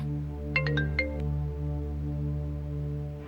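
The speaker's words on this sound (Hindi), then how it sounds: "जवाहिर का फोन है" A phone's electronic ringtone plays a short quick run of melodic beeps in a dubbed Turkish drama over a steady low background hum.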